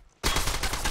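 Rapid burst of video game gunfire starting abruptly after a brief quiet moment, a loud sustained fusillade of overlapping shots close by.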